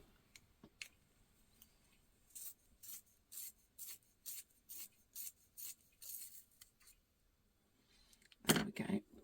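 A Derwent Lightfast coloured pencil is sharpened in a handheld sharpener, giving about a dozen quiet, evenly spaced rasping turns that end in a louder scrape.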